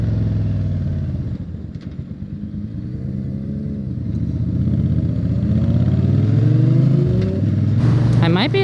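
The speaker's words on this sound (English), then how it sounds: "So this bike will do 35 in fifth gear, but not 30" A motorcycle rides in fifth gear at low road speed, a loud, close engine drone that rises and shifts pitch as it accelerates, with a rider talking over it.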